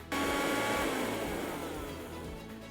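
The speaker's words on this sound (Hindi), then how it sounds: "this mixer grinder is equipped with a powerful 1000 what motor and includes a fruit filter jar" A Bajaj mixer grinder with a 1000-watt motor starts abruptly and grinds with a loud, steady whine and roar that eases slightly toward the end, with no talking.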